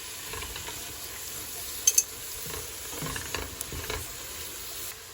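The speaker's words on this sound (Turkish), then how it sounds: "İnce ince küçücük doğradığımız yeşil kabaklarımızı ilave edip karıştırıyoruz." Soft sizzling and scraping of finely chopped zucchini being stirred in butter in a pan, a steady low crackle with a couple of brief metallic clinks.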